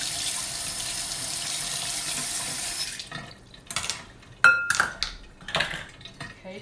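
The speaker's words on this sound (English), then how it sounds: "Rinse my knife off because I've been wanting to use that again." Tap water runs into a sink while a kitchen knife is rinsed, with a steady hiss for about three seconds and then clinks and splashes as the flow stops and the knife is handled.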